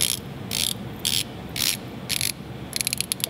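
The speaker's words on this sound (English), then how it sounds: "It is a 120 click unidirectional bezel." A 120-click unidirectional bezel on a Marathon JDD automatic military diver's watch is turned in several short bursts of crisp, close ratcheting clicks, ending with a run of distinct single clicks.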